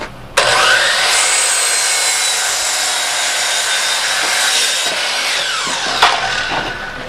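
A miter saw slices through 2x10 lumber in one loud, sustained cut lasting about five seconds, with a few clattering knocks as the board settles and the blade winds down.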